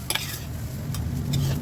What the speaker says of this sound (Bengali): আমার ভেন্ডিটা ভাজা হয়ে গেছে